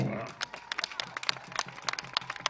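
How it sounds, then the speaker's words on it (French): Audience at a political campaign rally in Gamba, Gabon claps and cheers as a guest is invited up, a dense burst of applause with sharp individual claps, steady and close throughout. "je vais inviter, n'est-ce pas, sous vos acclamations, Monsieur Mukombo"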